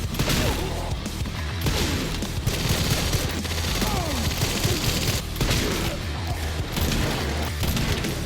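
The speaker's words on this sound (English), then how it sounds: "with this powerful shotgun I got from the BSAA Battle Pass drops, it was a breeze taking them out" Powerful shotgun blasts from a Resident Evil game firefight, loud repeated bursts in steady succession over a dense backdrop of crashes, booms and combat clutter.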